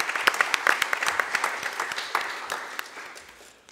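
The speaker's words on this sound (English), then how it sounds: "Let's have a round of applause for Trustee Otto." At a community college district board of trustees meeting, a small room of people claps for the newly elected board president, with distinct individual hand claps that are fairly faint and gradually taper off.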